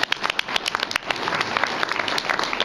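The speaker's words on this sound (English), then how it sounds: "let's give him a clap" A crowd applauding, dense rapid clapping from many hands, steady and fairly close, lasting the whole stretch.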